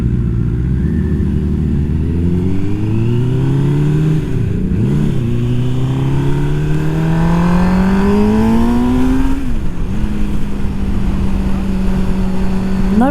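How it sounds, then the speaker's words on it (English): A motorbike engine rising and falling in pitch as it closes in from behind on a road, loud and continuous with shifting revs, heard over a steady engine drone. "Bike behind us."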